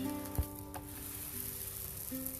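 A potato and methi paratha cooks on a hot griddle with a soft, steady sizzle and a faint background hum, punctuated by a single sharp tap early on.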